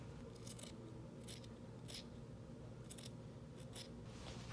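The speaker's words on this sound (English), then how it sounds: "So you can cut off the excess." Scissors snip off excess fabric while a scrunchie is being sewn, giving about six short, crisp cuts at an uneven pace over a steady low background hum. The snips are faint and close, with no talking.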